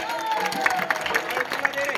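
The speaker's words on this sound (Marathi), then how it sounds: "टाळ्या वाजवा." Audience clapping at a devotional kirtan-style folk performance, brief scattered applause with a few cheers mixed in, heard beneath a speaking voice.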